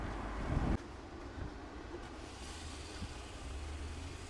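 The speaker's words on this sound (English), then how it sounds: "Russia has trams as well." A tram rumbles past on a Moscow street, a steady broad roar with faint rail clatter, fairly distant and continuous, with a heavier thud of wind or handling noise at the start.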